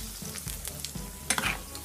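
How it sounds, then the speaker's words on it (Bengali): Battered pumpkin flowers dropped into hot oil to fry as pakoras, a quiet, close sizzle with soft crackles and a brief burst of spattering near the end. "আমি বাকিগুলো ফুল একটা একটা করে সেম ভাবে লাগিয়ে তেলের মধ্যে দিয়ে দিচ্ছি।"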